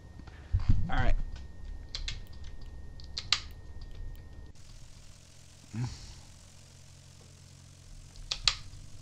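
Scattered clicks and taps from a computer keyboard during a flight simulator session in a Carenado Cessna 172 Skyhawk, a few sharp bursts spread across several seconds over a faint engine drone.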